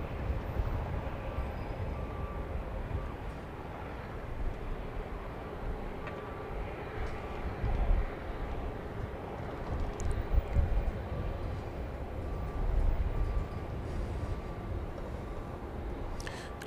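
A distant Bell 407GX helicopter near Dallas Love Field rumbles on as a low, steady drone that rises and falls slightly, with no voices.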